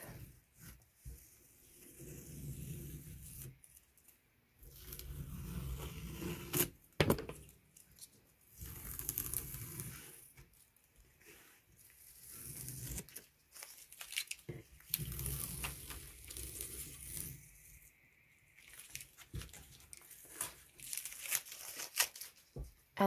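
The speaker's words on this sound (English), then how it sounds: "So we'll take the tape off." Masking tape is peeled slowly off the edges of a finished watercolor painting on paper, producing faint intermittent crinkling and tearing rips separated by quiet pauses.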